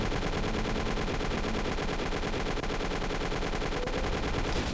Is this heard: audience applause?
no